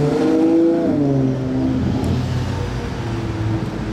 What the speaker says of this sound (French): j'entends un V12 arriver juste derrière